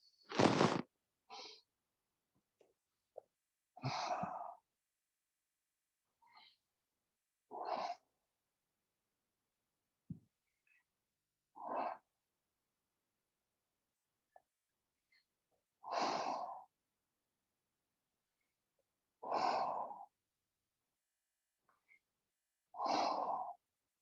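Slow, deliberate exhales during a stretching routine, about eight breaths spaced a few seconds apart, each a soft airy whoosh, close and clear against near silence.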